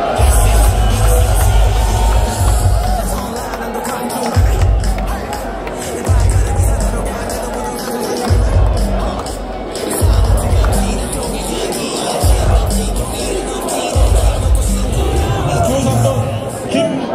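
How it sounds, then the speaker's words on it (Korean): Crowd at a Democratic Party presidential primary rally in Korea, 2025, cheering and applauding the entrance of candidate Kim Dong-yeon, with loud, dense roaring that swells in repeated rhythmic surges throughout. "김동연 후보에게 큰 박수 부탁드립니다."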